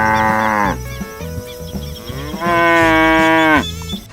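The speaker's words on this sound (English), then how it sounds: "cow," A cow moos twice in long, loud, drawn-out calls with a pause between them, over a steady background of music.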